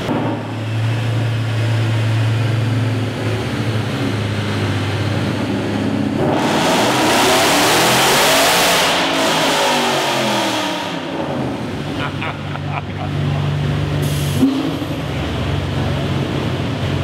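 A powerful Mercedes SLS engine roars and revs hard on a dyno, pitch sweeping up and down through the gears, loud and close, then settling back to a rumble.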